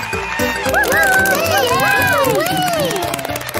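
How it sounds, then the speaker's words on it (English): Cartoon characters clap and cheer for a ballet-karate performer on a children's animated show; bright, excited cheering voices with rising whoops over a steady patter of clapping, close and lively throughout. "Let's all clap for Elly."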